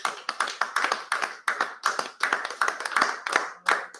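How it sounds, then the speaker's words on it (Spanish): A small congregation in a church Bible study claps for the Lord, sparse and uneven hand claps landing in loose bursts, close and fairly distinct rather than a dense roar. "Vamos a darle un aplauso al Señor."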